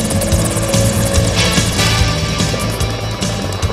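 Revolution Mini-500 light kit helicopter performing a hovering autorotation, with a steady, loud, close rotor and engine drone with rhythmic blade chop running throughout without pause.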